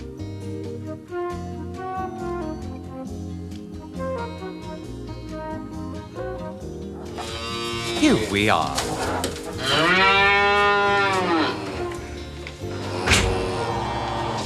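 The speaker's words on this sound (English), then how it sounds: "That sounds like cows mooing." Cows moo in several long, loud, wavering calls, heard after a short musical passage and a brief spoken line, from a record of farm sounds played in a children's schoolhouse setting.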